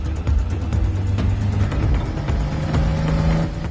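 A car cruising on a road at normal speed gives a steady, even engine and road rumble at close range, with no talk.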